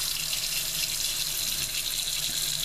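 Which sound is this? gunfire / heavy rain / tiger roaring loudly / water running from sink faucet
water running from sink faucet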